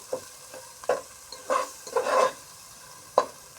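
Spices and salt are stirred and fried in a pan with a few irregular scraping strokes and soft sizzling bursts, separated by brief quiet gaps, close and moderately loud.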